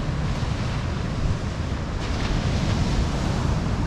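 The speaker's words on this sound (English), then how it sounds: "We've got some big waves again." Big ocean waves break steadily on a rocky coast, a loud continuous roar of surf mixed with wind buffeting the microphone.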